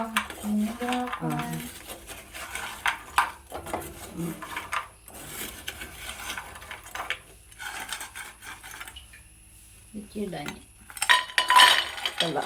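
Caramelised homemade sweets being stirred in a metal pan, with irregular scraping and clinking of a utensil against the pan, moderately close, and brief voices in the background at moments.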